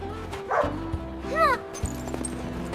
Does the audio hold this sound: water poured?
no